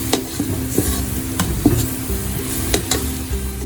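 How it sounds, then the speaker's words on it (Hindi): Jaggery is stirred into cooking rice with a spatula, giving a steady soft sizzle broken by several sharp scraping clicks of the utensil against the pot, close by with no talk. "अब हम इसमें डाल रहे हैं गुड़।"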